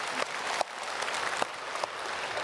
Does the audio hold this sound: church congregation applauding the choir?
yes